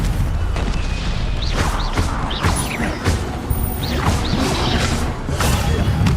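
Spells cast and striking in the Hogwarts Legacy video game, a loud, busy run of whooshes, crashes and booming impacts that pile up without pause, with voices calling out among them.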